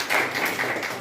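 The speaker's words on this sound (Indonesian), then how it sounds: "kita beri tepuk tangan untuk" A classroom group claps for a student after a presentation, a short burst of steady, fairly loud applause from a small audience with no talking.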